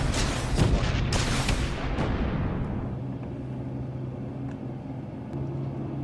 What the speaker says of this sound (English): This turret is awesome.